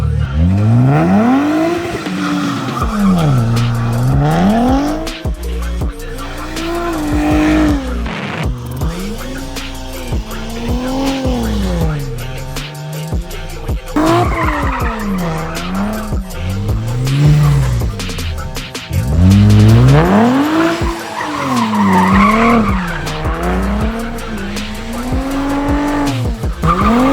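A rebuilt 2023 Nissan 400Z, once wrecked, is driven hard nearby. Its engine revs climb and fall again and again while the tires skid and squeal loudly throughout, with a few voices heard briefly.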